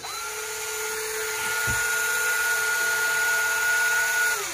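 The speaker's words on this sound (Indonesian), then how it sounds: "Line winder jalan, bunyi sangat smooth" A Daiwa Hypertanacom 400BDe electric fishing reel's line winder runs with a smooth, steady high-pitched motor whine that holds evenly, then shifts slightly in pitch before winding down near the end, heard close and alone.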